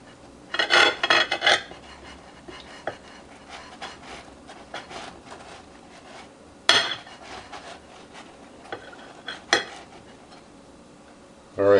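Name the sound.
slicing a hot whole wheat bagel with a knife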